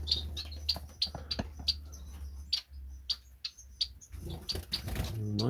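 Canaries in an aviary chirp in quick, bright bursts, repeated short tweets at close range with a low background hum, and no talking.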